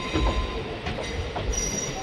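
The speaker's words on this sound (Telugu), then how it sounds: "అటు సైడ్ అయితే ఇది మెమో ట్రైన్ అయితే వెళ్ళిపోతుంది." A MEMU train passes at Vijayawada junction near the loco shed: a close rumble of wagons over the rails with rhythmic clatter and brief metallic squeals, with no talking.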